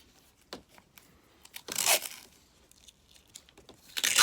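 Duct tape torn off a hoop project, with a loud ripping tear in the middle and another toward the end, surrounded by quieter crinkles and taps nearby.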